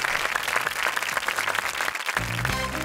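Studio audience applauding on a Turkish game show set, a dense, steady clapping wash at close range that carries on throughout, briefly dipping near the two-second mark before swelling again.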